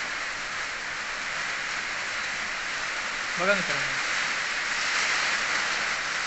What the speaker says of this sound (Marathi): काय पाऊस सुरू आहे ते बघा मित्रांनो